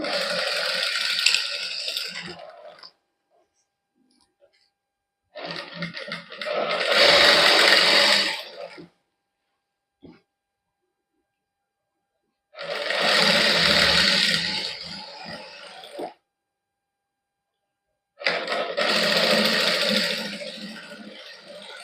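Sewing machine stitching fabric for a suit in a boutique, running in several bursts of steady whirring and needle rattle, each a few seconds long, separated by quiet pauses, close and fairly loud.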